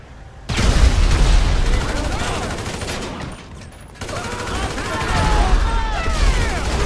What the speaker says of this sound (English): Okay, grenade away.